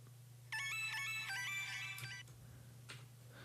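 A bright, bell-like synth pattern from a remix's first verse, a rapid sequence of tinkling tones running for about two seconds over a steady low hum, then fading into faint background sounds.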